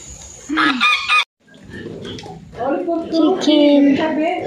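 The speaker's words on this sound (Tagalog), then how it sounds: "Chicken." Chickens cluck and a rooster crows on a farm in Brazil, with hens' calls rising in bursts after a brief pause, near and loud, while people talk over the animals.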